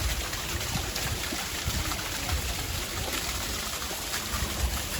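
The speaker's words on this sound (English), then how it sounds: "And over here's a little waterfall." A small waterfall among palm trees and flowers in the Dominican Republic gives a steady, close, even rush of falling water, with no voices and no pauses.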